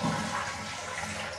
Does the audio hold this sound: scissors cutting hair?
no